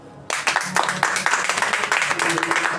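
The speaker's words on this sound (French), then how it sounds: "Applaudissez" Sudden burst of audience clapping after a brief quiet start, individual claps distinct and rhythmic at first, then thickening into steady applause from a nearby crowd, with a voice briefly audible over it.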